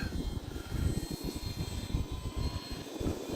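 A Hobbyzone Carbon Cub S2 1.3 m RC airplane flies slowly in wind, its electric motor a steady airy drone under gusty wind rumble.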